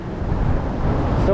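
Wind gusting between pier pilings on a lake while fishing for walleye, a close, buffeting rush striking the microphone in a short continuous blast.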